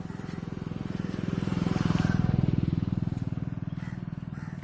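A motorbike moves slowly on a punctured tyre, giving a close, rapid, regular thumping pulse over the engine drone that swells in the middle and then eases off.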